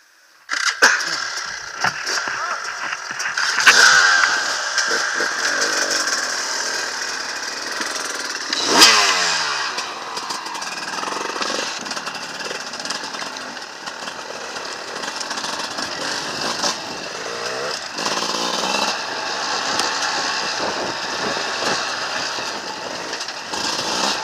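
A motorcycle engine runs steadily at close range, a loud buzzing drone with a couple of brief revving surges, continuing for the whole stretch.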